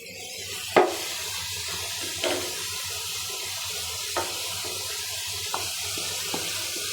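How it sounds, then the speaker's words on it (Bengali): Water is poured into a cooking pot of chicken with bottle gourd, a steady splashing wash with a few sharper splashes and clinks spaced through the pour. "দিলাম এটা একটু পানি দিয়ে পানি দিয়ে দিব"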